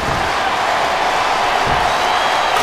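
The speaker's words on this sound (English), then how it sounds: "I love hearing the crowd come alive" A large wrestling event crowd roars continuously, a loud dense wash of cheering and shouting with no pauses.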